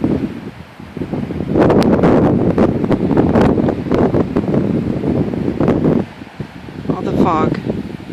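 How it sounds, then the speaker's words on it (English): Cold wind gusts through a park as fog rolls in near fishing water, a loud, rough rumble buffeting the microphone in waves, dropping briefly before a weaker gust with a faint high chirp. "Cold and windy."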